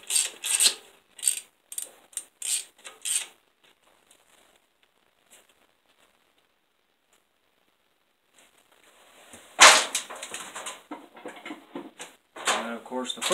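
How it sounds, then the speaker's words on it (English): Ratcheting wrench working a 13 mm fastener on an engine accessory bracket during reinstallation, giving bursts of quick, close metallic clicks in short groups, then a quiet gap before more rattling clicks resume near the end. "What I mean by quick wrench is that a ratcheting wrench."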